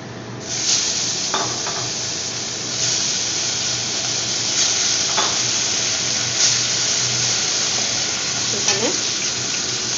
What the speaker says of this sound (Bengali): দেখুন এইভাবে আমি গ্রেভিটা বানাচ্ছি।